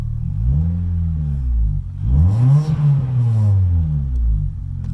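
A 2001–2005 Honda Civic with a D17 engine and a Y8 intake manifold revs close up, rising from a steady idle to a swelling, throaty rev and settling back down, loud and alone.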